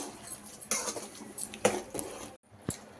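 Cooked soya chunks being stirred into a boiling curry in a pot, soft wet squishes and intermittent spoon clinks against the metal, quiet and close, no talking.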